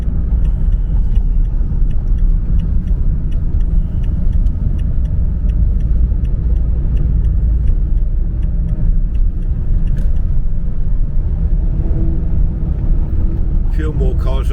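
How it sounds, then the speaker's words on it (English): Cars pass on a road at night, heard from inside a moving vehicle as a loud continuous engine and tyre rumble with a brief rattle near the end. "A few more cars on the road now."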